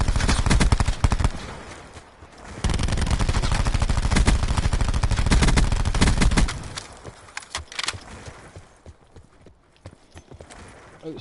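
Gunfire rings out in a shooter game, with bursts of sharp cracks in dense rapid succession, loud and close, then thinning to sporadic shots.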